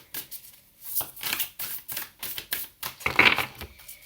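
Tarot cards shuffled by hand on a table, a series of quick crisp riffles and slaps in an even rhythm, close and fairly quiet with no talking.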